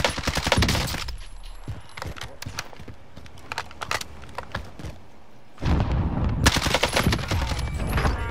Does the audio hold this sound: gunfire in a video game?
yes